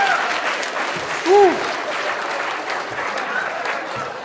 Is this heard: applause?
yes